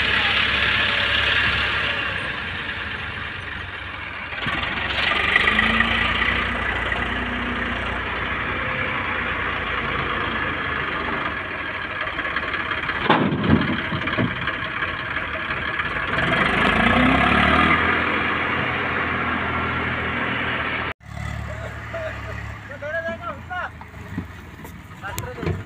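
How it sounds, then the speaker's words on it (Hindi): A Farmtrac tractor that had been stuck drives past, its engine running as a steady low rumble throughout, with bursts of nearby activity and a sudden drop near the end. "ये जा रहा हो ट्रैक्टर जो धस चुका था,"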